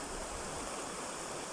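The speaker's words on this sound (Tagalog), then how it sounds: "Lalo na yung tubig. Yung agos ng tubig." Stream water flows and rushes continuously at a scenic spot, a dense, even hiss-like roar that stays steady throughout, close and fairly loud with no voices.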